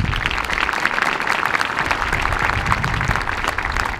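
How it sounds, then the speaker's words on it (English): Graduating seniors at a Dubuque high school graduation ceremony applaud themselves, a loud, dense wash of clapping from a large crowd that holds steady without pause. "let's applaud ourselves for that"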